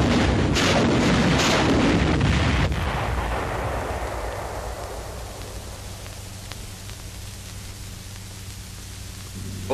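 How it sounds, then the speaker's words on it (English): Demolition rockets fired from a launcher on an armored engineer vehicle blast a gap in a lightly reinforced concrete wall. Several sharp bangs come in quick succession, then a long roaring rumble fades slowly away. "demolition rockets were used to blast a gap in a 6x8 lightly reinforced concrete wall"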